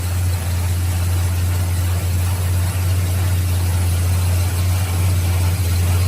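A Plymouth Road Runner muscle car engine idles steadily, a constant low rumble with a strong deep hum and broad hiss, close and loud throughout with no talk.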